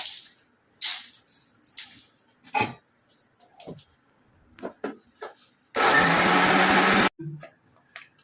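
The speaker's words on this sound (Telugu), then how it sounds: "కొంచెం ఉప్పు వేసి మిక్సీ పట్టుకుందాం." A kitchen mixer grinder blends tomato and coriander chutney with salt in one loud burst of about a second and a half. Scattered clinks and handling knocks come before it, and a thump follows.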